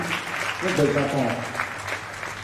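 Church congregation clapping and cheering in a steady wash of applause, with a voice speaking over it and a sustained tone underneath.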